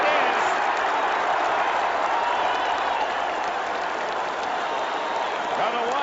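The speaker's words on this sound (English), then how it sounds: "The Washington fans cheer." Washington fans roar at the 1981 Rose Bowl college football game against Michigan, a loud, sustained crowd cheer mixed with applause that holds steady throughout.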